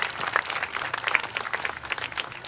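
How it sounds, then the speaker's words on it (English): Audience claps to acknowledge project collaborators at a talk by James Corner; brief, moderately loud applause from a seated crowd, a scattered patter of hands for about two and a half seconds, no speech. "A hand of applause for them, please."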